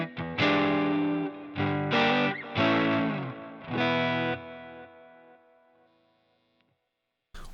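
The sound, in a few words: electric guitar through Line 6 Helix, two cabs panned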